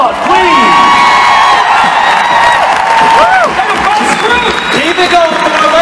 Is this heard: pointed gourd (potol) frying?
no